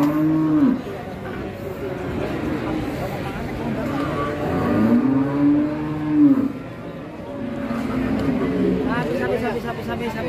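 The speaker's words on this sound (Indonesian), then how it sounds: "Sapi galak." PO cattle moo several times at a cattle market, long low calls from nearby, over a background of murmuring voices and ambient farm noise.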